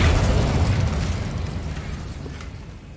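Incendio fire spell cast in Hogwarts Legacy, a loud fiery whoosh and rumbling burst that starts at full strength and slowly fades while flames crackle on.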